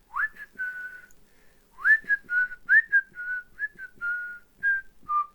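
A person whistling a catchy song melody, clear close solo whistled notes in a sliding, phrase-by-phrase tune with short pauses, no other sounds.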